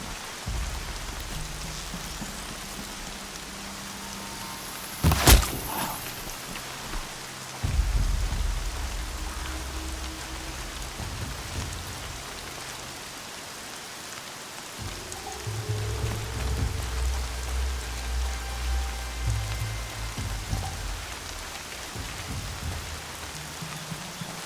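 Rain falling in Horizon Zero Dawn, a steady hiss of rainfall throughout, broken by a sharp crack and low rumbles of thunder, with no speech.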